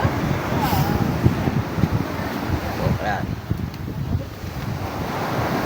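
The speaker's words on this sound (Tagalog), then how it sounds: "malaki yung alon eh, malaki yung balod" Big ocean waves wash in steadily after a typhoon, with wind buffeting the microphone, and a few faint voices drift in and out.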